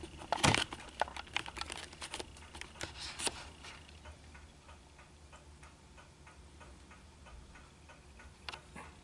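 A shop-built hand shaper cuts a 4130 steel star wheel: a burst of sharp metallic scraping strokes up front, then a steady run of faint, evenly spaced ticks near the bottom of the cut.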